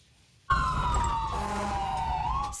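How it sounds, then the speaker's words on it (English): A fire truck siren with Vancouver fire crews starts abruptly after a short quiet lead-in, then sounds loud and close as a steady wailing tone that slides slowly downward and back up, with engine rumble underneath. "Sirens."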